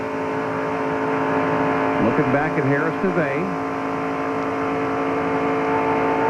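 ARCA stock cars racing at about 190 mph in the 1998 Winn-Dixie 300, a steady loud engine drone with a brief swell of passing cars, under a commentator's voice.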